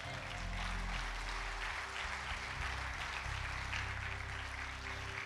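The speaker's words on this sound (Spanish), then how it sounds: "Si tú lo crees, dale un aplauso a Dios." A congregation at a Spanish-language church service breaks into steady, sustained applause that fills the room evenly from start to finish, with a low droning tone beneath it.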